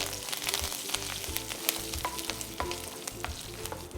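A pan sautés with a continuous close sizzle and crackle while cooking pumpkin kulambu, broken by short bursts of stirring and scraping, with no talk.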